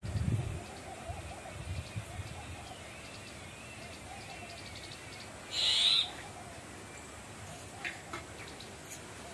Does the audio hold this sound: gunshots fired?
no